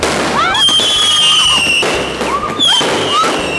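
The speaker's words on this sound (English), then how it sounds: "We were lighting off just these little ones that just, they shoot into the air." Several small fireworks shoot into the air, their high whistles rising in a series, broken by pops and crackling bursts. A few voices can be heard faintly beneath them.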